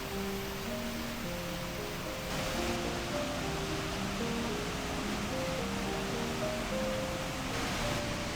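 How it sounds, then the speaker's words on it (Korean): A waterfall pours into an emerald pool below, a steady broadband roar with no breaks, heard from close beneath the falls and holding even throughout. "폭포의 장쾌한 물줄기가 우렁차게 쏟아지며 만든 에메랄드빛 물 웅덩이"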